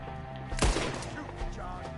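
Gunshots from Red Dead Redemption 2 as the player fires at an enemy up in a tree branch: one loud broadband blast near the middle with a fainter shot later, over steady game music and background noise.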